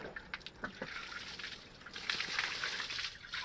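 Water pouring and trickling steadily, faint at first and growing fuller and louder after a couple of seconds.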